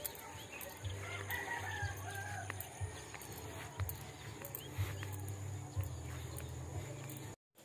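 Pet chickens and a rooster outdoors, with repeated crowing and clucking heard faintly at a distance against steady background noise, ending abruptly.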